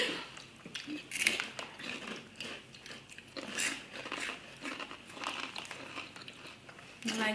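Repeated crunchy bites and chewing of a crunchy peanut butter Swiss snack, close and fairly quiet, crackling in uneven bursts without talk.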